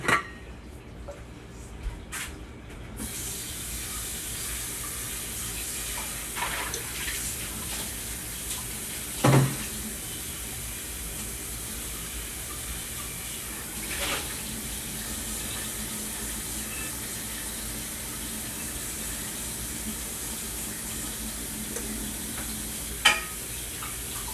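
A kitchen tap pours water steadily while a bowl is rinsed out, a constant close hiss broken by a few clunks of the bowl and brief faint speech.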